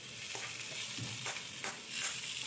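A spatula stirs well-browned crab masala in a frying pan, making a quiet, steady sizzle broken by a few soft scrapes and knocks, with no talking.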